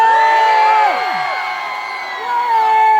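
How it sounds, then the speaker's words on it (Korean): A concert crowd at an SSG Landers event lets out a loud, sustained cheer of whoops and yells on cue. It dips slightly midway, then swells back up. "그럼 그 점을 여러분들 함성으로 한번 시작해보겠습니다 함성 발사!"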